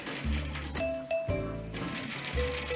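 A sewing machine stitches a pant hem in short bursts, its motor whirring and needle clattering with brief pauses between runs.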